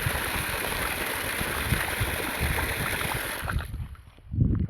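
Water gushes from a pump pipe running at low voltage, a dense, steady close splashing and gurgling that suddenly weakens and drops away near the end, leaving a brief quieter trickle and a soft thump.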